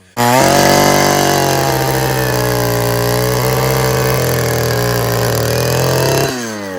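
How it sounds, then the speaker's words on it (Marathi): An earth auger machine digging a planting pit for an areca nut plantation runs close and loud, a steady high-pitched engine drone that starts abruptly and holds for about six seconds before cutting off. "आपण खड्डा मारण्यासाठी जी मशीन वापरली त्याला काय म्हणतात अर्थवर"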